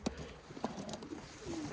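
Pigeons coo faintly inside a home coop, a few short soft calls with a brief low drawn-out coo near the end, against quiet background hiss.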